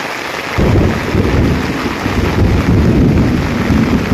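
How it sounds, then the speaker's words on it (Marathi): Heavy unseasonal May rain pours down in a dense, steady roar, with a low rumble beneath it and no voices. "भरपूर म्हणजे भरपूर असा पाऊस पडतो आहे"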